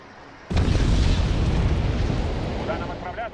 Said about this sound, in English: Let's just keep bombing.